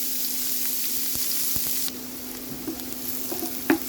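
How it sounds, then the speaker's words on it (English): Onion sizzles steadily in a pot, a close, even frying hiss with a few soft stirring knocks and no voices. "Using the same pot, let's fry our onion."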